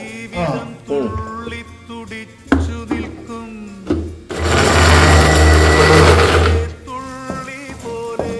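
A mixer grinder grinding roasted spices whirs loudly for a couple of seconds in a short burst, surrounded by background music before and after.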